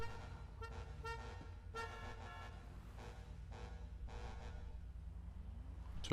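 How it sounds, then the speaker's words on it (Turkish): Several short car horn toots in a Grand Theft Auto V car race, some in quick pairs, sounding over a constant low engine rumble. "Ya çalma abi ya korna"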